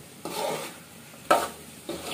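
Ingredients for khichuri sautéed in a pan, with a steady low sizzle and three bursts of stirring scrapes at regular intervals, close and fairly quiet, no talking.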